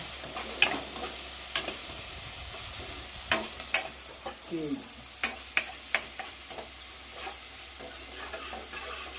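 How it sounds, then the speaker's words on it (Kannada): Salted eggs for egg bhurji being stirred in a pan make a sizzle with repeated sharp spatula scrapes and taps in an uneven rhythm, close and fairly clear, with a brief murmur of voice near the start. "ಉಪ್ಪು ಹಾಕೊಂಡ ನಂತರ ಅದನ್ನು ಸ್ವಲ್ಪ ನಾವು ಮಿಕ್ಸ್ ಮಾಡ್ಕೊಳ್ಬೇಕು ನೋಡಿ ಈ ರೀತಿ ಮಿಕ್ಸ್ ಮಾಡಿಕೊಂಡಾದ್ಮೇಲೆ"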